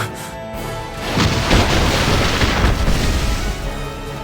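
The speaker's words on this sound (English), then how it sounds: "A bombardment from Styria." Bombardment in the video game Final Fantasy War of the Visions, a deep rumbling boom that swells after a second and rolls on as a heavy, sustained roar of blasts, no talking.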